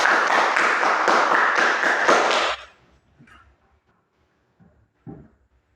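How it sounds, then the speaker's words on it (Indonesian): A classroom of pupils clapping hands together in a loud, fast burst of claps for a bit over two seconds, then stopping abruptly, followed by a few faint scattered taps and knocks in a quiet room. "Tepuk tangan dulu kepada sini."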